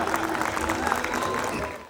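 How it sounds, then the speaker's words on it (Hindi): Audience at an Urdu poetry mushaira in Hyderabad gives a short burst of applause, dense and fairly soft, with a few voices mixed in. "तालियां"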